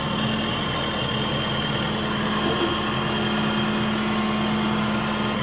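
A tractor engine runs steadily close by, a constant droning hum with a low tonal whine, holding even and loud with no talk over it.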